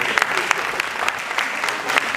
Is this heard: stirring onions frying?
no